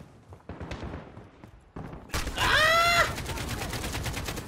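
AK-47 fire in Call of Duty Modern Warfare: a loud rapid burst of automatic shots followed by a trailing rattle, after quieter muffled game sounds at the start.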